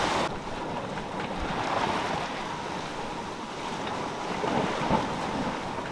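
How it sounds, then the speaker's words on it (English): Strong wind rushing steadily past a sailboat sailing fast in about 20 knots of breeze, with wave and water wash underneath, a constant broadband roar with slight gusty swells and no voices. "20 knots of wind today, I would say. And we're flying."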